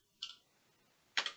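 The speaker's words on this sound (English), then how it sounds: "I'm typing in the exact name as it showed in the mixer in the previous song" Two separate clicks from typing on a computer keyboard, spaced about a second apart, crisp and close in an otherwise quiet room.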